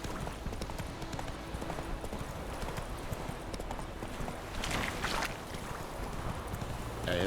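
The horse Roach gallops in The Witcher 3: a steady, rapid clip-clop of hooves runs throughout under a constant wash of wind and ambient game noise, with a brief louder swell near the end.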